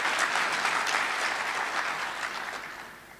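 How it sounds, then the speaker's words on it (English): Audience applause at the South Africa Investment Conference closing ceremony, a dense sustained round of clapping from a large crowd that fades out toward the end, with no talk over it. "Let's give him a round of applause."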